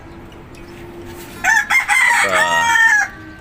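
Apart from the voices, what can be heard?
chickens clucking and rooster crowing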